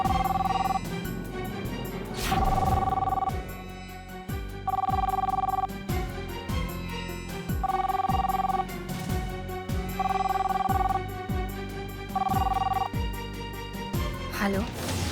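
Telephone ringing in a Hindi TV serial scene, a repeated electronic ring in regular bursts over dramatic background music, about six rings in a row.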